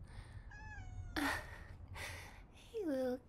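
A cat meowing in a quiet indoor scene, with a few short, clear meows separated by gaps, close and soft, and breathy noise between them.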